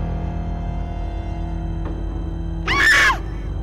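A shrill scream from a character in the horror game Hello Neighbor, Act 3, rising suddenly near the end and lasting about half a second over a steady low game hum, with no talking.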